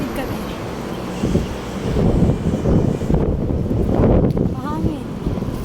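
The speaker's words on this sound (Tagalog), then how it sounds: "Sobrang hangin." Strong wind buffets the microphone outdoors during a crossing, with loud, continuous low rumbling gusts, traffic or boat noise mixed in underneath, and a brief chirpy sound near the end.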